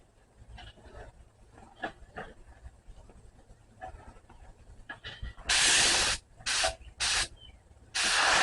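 Spray gun laying down a light first topcoat on Saturn car panels, with three loud, steady hissing bursts near the end, cut by short pauses, after a stretch of quieter shuffling and handling noises.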